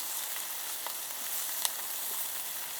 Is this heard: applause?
no